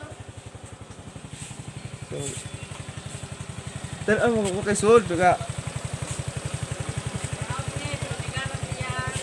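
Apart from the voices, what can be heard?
Suzuki Skydrive Sport motorcycle engine running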